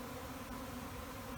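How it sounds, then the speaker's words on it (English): A swarm of honey bees pouring out of a hive fills the air with a steady, dense buzzing drone that continues without a break through the whole moment. "when a swarm moves, it kind of looks like it's raining bees"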